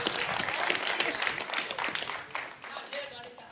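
Applause from the audience at a municipal board handing-over ceremony in Meru, a dense wash of clapping that holds steady and then thins toward the end, heard at a moderate distance under a speaking voice.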